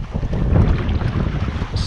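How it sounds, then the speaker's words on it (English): Steady wind gusts buffet the microphone in a low, rumbling roar from a kayak on cloudy water, with faint water sounds underneath. "It's getting pretty cloudy and pretty windy,"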